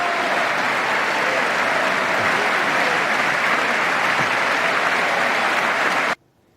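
Loud, sustained applause from a large audience, steady and dense throughout, then cutting off abruptly near the end.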